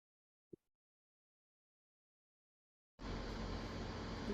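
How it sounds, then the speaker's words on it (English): A room air conditioner running, heard as a steady low rumble and hiss that starts abruptly and continues, preceded by a brief click in near silence. "you might hear my air conditioner there"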